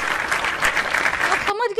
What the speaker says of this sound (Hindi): तालियां तालियां नेताजी के लिए तालियां।